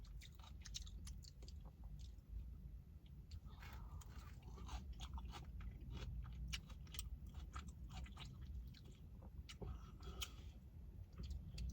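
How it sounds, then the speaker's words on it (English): Someone eating yellow coleslaw from a barbecue restaurant close up, with soft wet chewing and irregular small crunches and clicks over a faint low background hum, with no talk. "Let me try the coleslaw. Yellow covered coleslaw."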